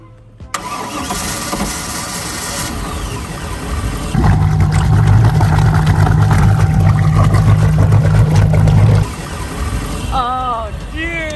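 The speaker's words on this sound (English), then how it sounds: "we gonna cross our fingers that this boat's gonna crank" A broken boat's outboard motor cranks over loudly and then catches, settling into a steady, rough running drone, with a voice briefly heard near the end.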